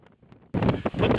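Wind gusts buffet the microphone in a brief burst of rushing, rumbling noise while a Marmot Halo 4P tent is pitched outdoors in windy conditions.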